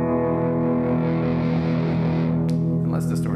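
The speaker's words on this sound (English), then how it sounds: "So I have like a clean sound that like smoothly gets more distorted." An electric guitar played through an overdrive effect holds a sustained, buzzing harmonic tone that shifts in character, giving way to a few scratchy noises near the end.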